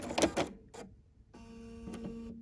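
Sewing machine tying off and trimming thread while piecing a quilt block: two short mechanical bursts followed by a steady whirring hum, fairly close.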